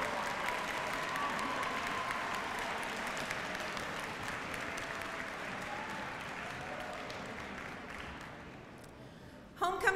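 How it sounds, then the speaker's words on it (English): An audience applauds homecoming planners at a school event, steady dense clapping from a large crowd that runs for about ten seconds and slowly thins near the end, heard from a moderate distance. "Let's give them a round of applause."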